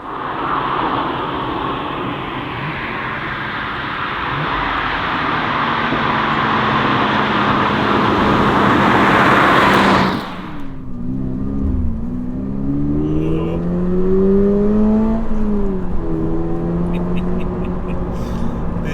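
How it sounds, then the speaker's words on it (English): A Toyota GR86 manual sports car accelerates hard with a loud, rising engine drone near the mic, cuts off sharply at a gear change, then pulls again with a lower, wavering engine note and no talk. "Let's go for a drive and I'll explain why."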